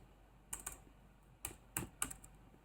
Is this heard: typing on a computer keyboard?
yes